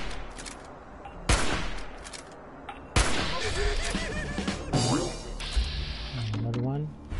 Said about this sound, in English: Let's shoot it.